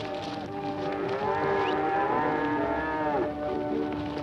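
Cattle moo loudly and continuously nearby on a cattle drive, a long drawn-out lowing call with overlapping voices, heard alone with no talk.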